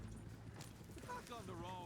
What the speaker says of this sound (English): Ease up on them horses!